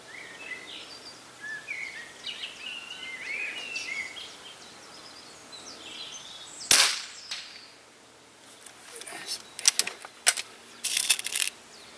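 A Weihrauch HW77 spring air rifle fires once outdoors at a 100 metre target, a single sharp crack midway. Birdsong sits faintly in the background, and clicks and handling follow the shot.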